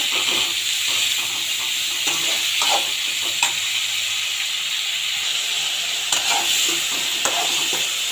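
Turkey berries sautéing in hot oil for a tamarind curry, a loud, steady sizzle and hiss close up, punctuated by irregular scraping stirs in the pan, no one talking.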